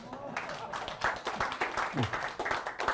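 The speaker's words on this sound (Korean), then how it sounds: "박수 부탁드리겠습니다." Audience applause at a Seoul National University economics roundtable forum, scattered claps rising in short bursts over about three seconds, mixed with a speaker's voice and room murmur.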